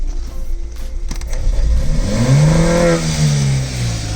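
A Volvo 340 engine revs up hard and bounces off an OMEX hard-cut rev limiter, giving a loud, stuttering, cut-off roar up close.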